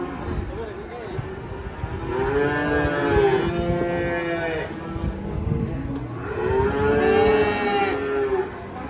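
Two long, loud moos from an agitated cow, one after another, rising and falling over a noisy crowd background with people talking, at a market as the cow comes off a truck.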